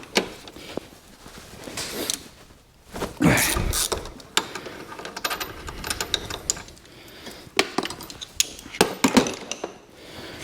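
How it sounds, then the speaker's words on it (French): A small bolt is worked loose from a bar on a BMW 120i E88 N43 engine, giving close, irregular metallic ratcheting clicks and clanks in short bursts. "On va retirer le petit boulon de la barre"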